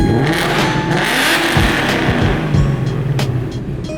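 A loud Mustang Mach 1 engine with long tube headers revs up and down with a deep, throaty exhaust rumble, close by, with sharp blips between sustained roars.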